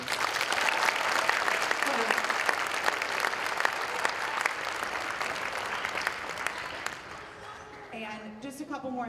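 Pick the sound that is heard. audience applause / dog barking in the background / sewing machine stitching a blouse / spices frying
audience applause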